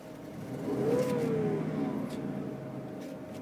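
A 2005 Dodge Durango 4x4 with 38,488 miles and a slight exhaust leak idles after sitting, giving a steady, close engine hum that swells briefly once early on before settling into an even drone.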